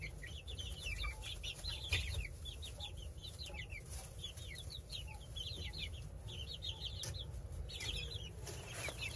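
Young chickens, hens and a rooster, cluck and chatter steadily in a group in a hen house, a busy overlapping stream of short calls over a low background hum.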